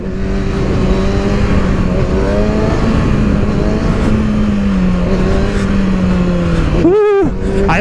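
A motorcycle with a leaking gas tank revs loudly and close during a knee knocker maneuver, its engine tone wavering up and down before a sharp stutter and surge near the end.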